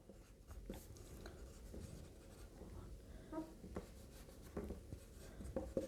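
Marker or chalk writing an answer on a board during a maths lesson, heard as scattered short scratchy strokes and taps at moderate level over a steady room hiss, with no one talking.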